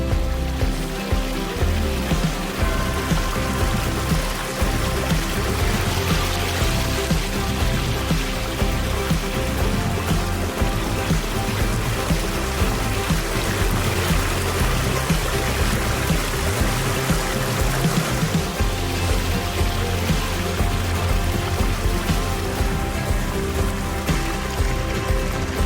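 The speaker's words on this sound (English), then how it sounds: "Whenever we have a slope, it just screams out a water feature." A backyard water feature built on a slope sends water steadily down its waterfall. The splashing and trickling run close by and continuously, with no pauses.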